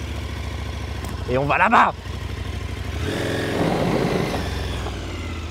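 A 2021 KTM 1290 Super Adventure R motorcycle engine idles and then pulls away with a brief rev over rocky terrain, close and moderately loud, while a rider speaks briefly over it.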